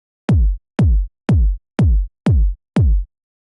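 A kick drum track in Logic plays six punchy, deep thumps at an even four-on-the-floor pace, each with a sharp click and a quick pitch drop, dry and isolated.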